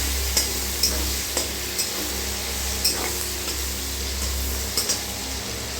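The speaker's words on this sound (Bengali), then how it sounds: "এখন আমি এই পেঁয়াজগুলো অ্যাড করে দেবো। দিয়ে এটাকে নাড়াচাড়া করে ভেজে নেব কিছুক্ষণ।" Onions being stirred and fried in a pan while making paneer butter masala, a steady close sizzle with a few sharp scrapes and clinks of the spoon against the pan, no talking.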